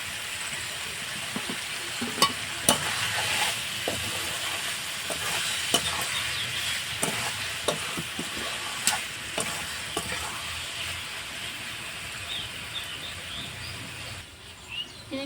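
Grape pickle with sugar cooking on low heat in a pan, a soft steady sizzle with intermittent sharp clicks of stirring and utensil taps, a faint bird chirping in the background.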